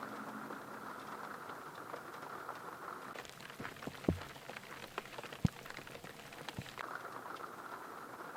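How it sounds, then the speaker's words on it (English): Light rain patters steadily and softly, with a few louder isolated drips and faint scuffing movement nearby, no voices. "It's not raining that hard, so it's a nice morning to be out in the rain."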